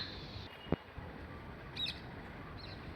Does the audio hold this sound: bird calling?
yes